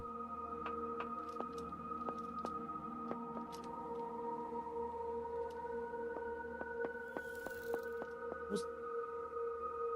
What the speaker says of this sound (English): it's the sound of the constructor